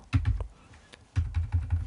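Keys clatter on a computer keyboard during PowerPoint exam practice, with a microphone partly covering the keyboard: two close, quick bursts of rapid clicking separated by a brief pause, with no voices.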